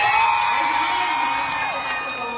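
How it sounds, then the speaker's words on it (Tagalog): Crowd at a drag queen production number and hosting event cheering and whooping loudly, a sustained roar of overlapping shouts and high yells that starts strong and eases slightly toward the end. "Isang malakas na hiyawan naman."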